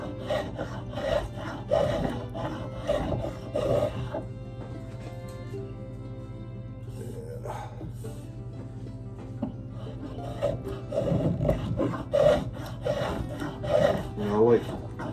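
Steady back-and-forth rasping and rubbing of a hand tool smoothing wood on an old hatchet, in repeated strokes close up with a brief pause in the middle and no talking.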